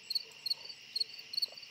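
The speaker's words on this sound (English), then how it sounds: "This cricket is so loud." A loud cricket chirps at a campsite in short, high, regular bursts, about four pulses close to the microphone over a quiet night background.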